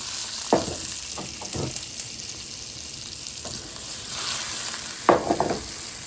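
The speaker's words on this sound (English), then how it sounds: "We got our onions and our, yellow, red, green peppers in there, and we're going to saute those up." Diced onions with yellow, red and green peppers sizzle in a pan outdoors for breakfast burritos: a steady, bright frying hiss broken by a few louder stirring clanks.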